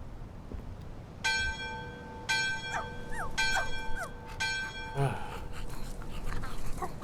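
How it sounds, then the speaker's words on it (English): Repeated bell-like ringing in the video game My Friendly Neighborhood, a dinner bell struck in bursts of sustained metallic tones, fairly loud over a busy game background with faint whimpering creature sounds. "there's like a dinner bell or something"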